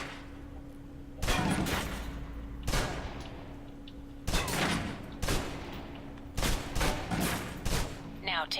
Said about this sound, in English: Now, let's move on to the submachine gun.